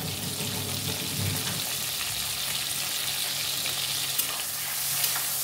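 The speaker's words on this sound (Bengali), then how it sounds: "সেই কারণে মাছগুলো একটু মোটামুটি ভাজবো।" Prawns frying in a little oil in a pan for a prawn and bottle gourd dish, a steady close sizzle with occasional stirring scrapes throughout, no talking.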